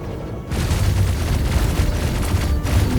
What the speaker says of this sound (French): Une tourelle automatique s'éclate